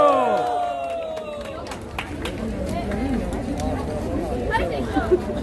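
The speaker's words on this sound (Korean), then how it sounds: "박수한번주세요" Crowd clapping at a Hongdae street busking show, a scattered, lively patter of hands under voices and chatter, following a singer's held notes at the start.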